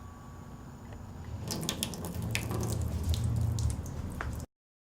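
Water poured onto a car's trunk lid splashes and patters in a steady close rush for a few seconds before stopping abruptly, with no talk.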